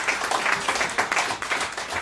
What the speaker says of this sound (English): you're applauding for him already